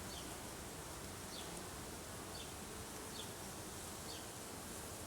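Honey bees buzz in a dense, steady hum from an open hive during an inspection, faint and continuous with no pauses.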